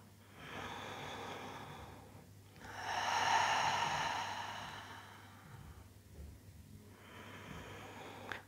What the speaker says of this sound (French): Prends le temps de respirer à ton rythme par le nez ou par la bouche.